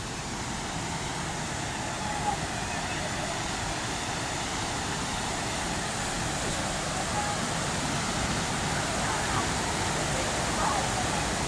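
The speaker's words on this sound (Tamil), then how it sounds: "அது பாரு, அதான் ஃபால்ஸ்." A waterfall roars steadily at Valparai in the hills on the way to Pollachi, a dense, continuous rush of falling water that fills the whole scene at an even, loud level without breaks.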